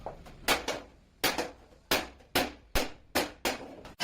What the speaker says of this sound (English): Using a wooden mallet rather than a steel hammer prevents surface marring.